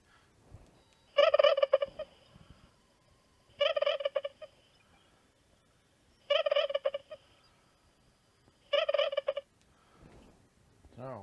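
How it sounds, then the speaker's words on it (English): Programmed turkey gobble sound from a 3D-printed turkey toy, four short electronic gobbling bursts repeated at regular intervals, fairly close and clear over a quiet background. "it's already been programmed with the sound of a turkey"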